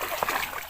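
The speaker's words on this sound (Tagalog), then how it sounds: "Ang lakas ng tubig" Strong water rushes along a forest stream, a brief close wash with a small splash in the middle, the flow steady throughout.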